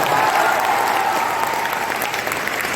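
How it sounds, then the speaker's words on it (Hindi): A seminar audience claps steadily and loudly, a dense burst of applause lasting a few seconds with no pause. "मैं कहता हूं एक बार जोरदार बिहार के लिए तालियां बजा देता हूं"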